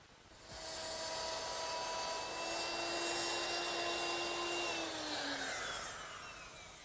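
Wood router fitted with a round nose bit cuts hinge recesses in wood for a drop leaf table, a loud steady high whine with a brief wind-up and a slight pitch drop near the end as the motor runs down.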